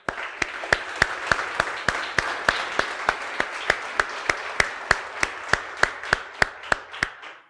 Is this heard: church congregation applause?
yes